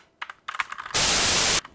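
Keys clack on a GM610 budget custom gaming keyboard, several separate close taps followed by a longer burst of bright, hissy clatter, then one more tap.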